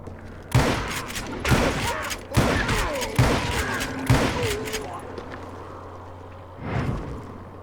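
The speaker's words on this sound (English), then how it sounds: "Kid Curry opened up on me with a goddamn Gatling gun." A Gatling gun opens up in Call of Juarez: Gunslinger, loud close bursts of heavy gunfire landing about once a second for several seconds, then a pause before one more burst.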